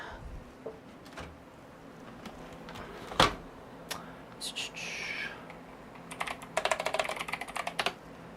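Rapid clicking of keys on a computer keyboard, typed in short irregular bursts close by, with a louder thump and some sliding or rustling in between, in a quiet room.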